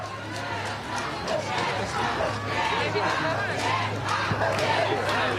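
Football fans chant in unison along a street on Via Gamba, a dense continuous crowd roar with rhythmic voices and a steady low hum underneath.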